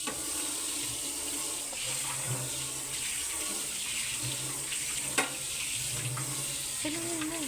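Hands washing and rinsing something under a running household tap, a steady broadband water rush throughout with faint clatter, and a brief sharp knock near the end.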